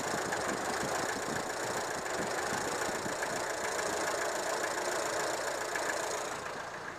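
A hot Renault R11 GTL engine idles evenly at low volume, with the rush of its radiator fan switching on blended into the steady hum, and no voices present.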